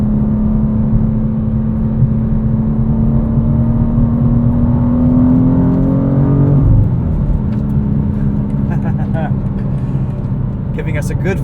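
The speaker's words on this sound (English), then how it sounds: "Let's do a little pull here onto the highway." A 2023 BMW M2 with a six-speed manual pulling onto a highway at night, engine note climbing in a rising whine, then a gear change dropping the pitch before building again, close, with talking over it.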